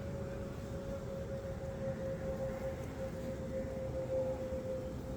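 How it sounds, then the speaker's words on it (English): A distant airplane drones over an apiary, a faint steady hum with a thin sustained tone over a low rumbling background, no voices present. "I'm like an airplane over my head right now."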